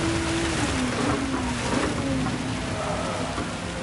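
Steady rain hisses throughout a Gran Turismo 7 race played in PSVR2, a dense, loud wash of falling water with a faint tonal engine whine drifting underneath.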